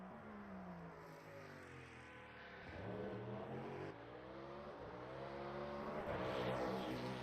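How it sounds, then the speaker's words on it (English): Cadillac hypercar racing in red livery at Bahrain, its engine revving loud and close with rising and falling harmonic sweeps as it accelerates and shifts, a continuous high-pitched race-engine wail with no talk. "I would not be surprised if a lot of fans for this car are purely for the sound alone, because listen to that thing."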